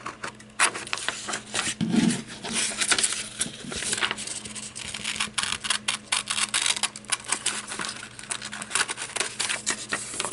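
Scissors rough-cut around a small paper tag for a handmade Christmas card ornament, giving close, irregular snips and paper rustles with soft handling clicks.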